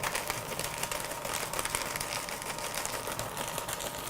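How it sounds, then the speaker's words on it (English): Steady mechanical whirring and grinding of a paper shredder with a dense, buzzy texture, running continuously and fairly loud with no pauses. "the paper shredder sounds like this."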